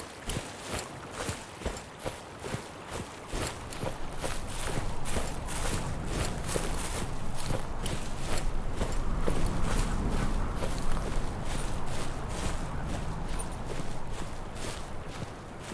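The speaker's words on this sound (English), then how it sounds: "I just included and placed all the footsteps." Footsteps redesigned for the video game Death Stranding, first as a sparse run of distinct crunchy steps, then a denser, steady walking rhythm over a louder rushing background. No one talks.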